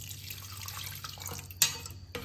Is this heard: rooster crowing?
no